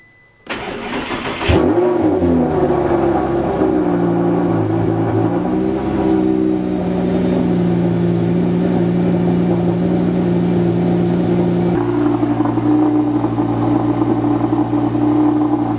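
An Audi R8 with a V10 engine cranks briefly, catches and settles into a loud, steady idle that holds close and even, with a slight shift in tone near the end.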